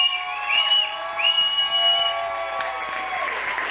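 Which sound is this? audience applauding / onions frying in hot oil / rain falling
audience applauding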